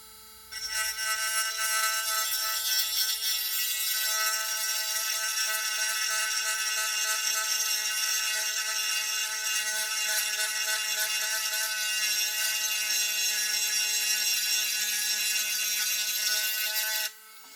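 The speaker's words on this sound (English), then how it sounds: "I'm using this USB Dremel with a burr." A high, steady whine of a USB Dremel rotary tool with a burr grinding detail off a plastic 1/48 scale F-14A model kit, running continuously for about sixteen seconds at close range, then stopping.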